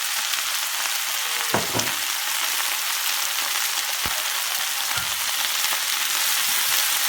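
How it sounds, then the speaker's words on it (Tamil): Mint leaves frying in a pan for a pudina thokku, a steady, dense hiss of sizzling oil with a few soft scrapes and knocks as they are stirred, heard close without talk. "அது நல்லா கிளறி விடுங்க"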